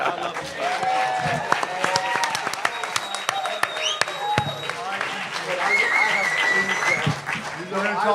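A studio audience claps in a dense, steady burst for a podcast's 500th episode, with voices talking and calling out over the applause throughout.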